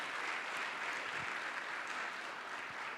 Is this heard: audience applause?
yes